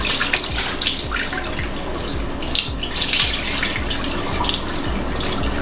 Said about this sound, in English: now I'm gonna go ahead and wet my face